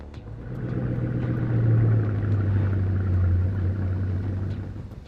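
A Bugatti Centodieci supercar's engine gives a steady, deep rumble at close range, rising slightly and holding for several seconds with no voices over it.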